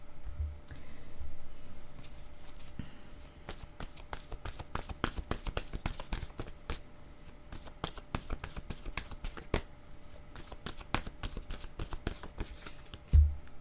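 Tarot cards are shuffled continuously during a card reading, giving a long run of dense, rapid flicking and clicking bursts at close range, with no talking.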